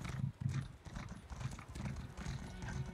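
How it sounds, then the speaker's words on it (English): A horse gallops at a sprint in the video game Elder Scrolls Online, its hooves making faint, rhythmic clip-clop thuds in a steady repeating beat over quiet background sound. "I'm actually like holding down the sprint key on my horse, and I'm barely moving"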